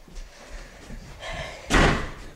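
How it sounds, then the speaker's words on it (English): A door slams shut indoors with one loud, sharp bang after soft shuffling and quiet background sounds. "Shoot, you shut the door."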